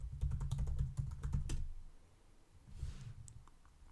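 Rapid keystrokes on a computer keyboard while a password is entered, a quick burst of close, crisp clicks for about a second and a half, then a pause and a few softer taps.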